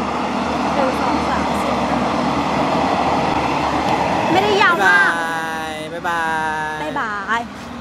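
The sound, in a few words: passing train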